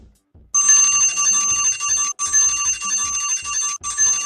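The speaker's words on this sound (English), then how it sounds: "when you hear the ringing, stop your singing" A loud, high electric bell rings in continuous bursts, pausing briefly twice before resuming, close and bright with a faint low thumping underneath.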